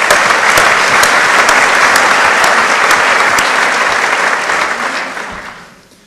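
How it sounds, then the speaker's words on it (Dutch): An audience at a university prize ceremony applauds the jury, a steady dense clapping that holds for several seconds, then fades out toward the end. "Graag een applaus voor onze jury."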